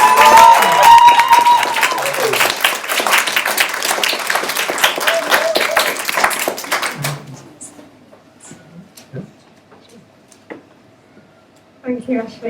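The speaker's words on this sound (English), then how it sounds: "Can we get another round of applause?" Loud applause from the crowd at a cafe launch at the Hill Station Cafe fills the first seven seconds, then gives way to near silence with a few scattered sounds and a voice starting at the end.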